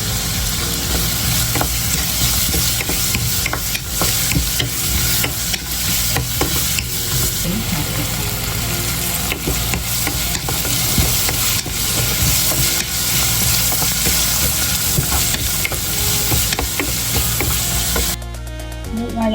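Sliced onions and garlic fry in a pan for a Kerala chicken curry, a loud continuous sizzle with steady stirring scrapes throughout, up close and without voices, ending abruptly.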